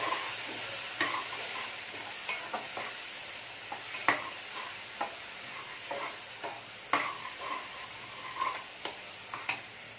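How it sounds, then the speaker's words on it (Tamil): Potato kofta gravy sizzles gently in a pan while a spoon stirs and mixes it, giving intermittent clinks and scrapes against a soft, steady frying hiss. "எல்லாத்தையுமே சேர்த்து நல்லா கலந்து"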